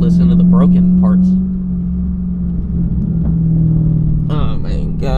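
Dodge Hellcat with a broken transmission cruising with a deep droning engine rumble and driveline hum, steady and close, while people talk briefly over it.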